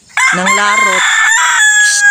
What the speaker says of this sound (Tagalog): Manok, huwag ka maingay.